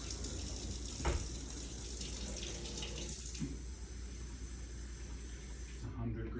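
Warm water poured into a container for a sourdough starter, a soft steady trickling hiss running for several seconds beneath a quiet room tone, with a faint knock early on.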